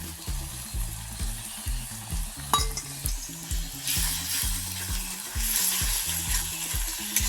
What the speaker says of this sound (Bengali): এর মধ্যে আমি এবার দিয়ে দেবো আদা রসুন বাটা।